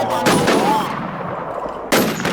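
Gunfire in the video game WarZ II, loud bursts of shots at the start and again near the end with a noisy rattling stretch between.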